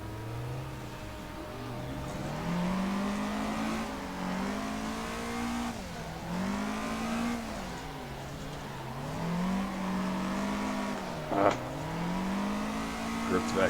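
A car drifting on a night touge-style mountain track in Assetto Corsa, engine revving and falling in repeated swells as the throttle is worked through corners, with a brief tire squeal and a voice talking over it.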